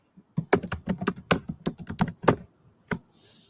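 Quick bursts of keystrokes on a computer keyboard, a close, crisp run of clicks with brief pauses, then a final isolated tap.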